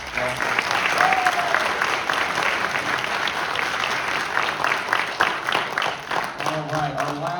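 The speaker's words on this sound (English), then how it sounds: "give him a round of applause as well" An audience at a high school jazz band concert claps in steady applause for several seconds, with a few faint voices and brief instrument noises near the end.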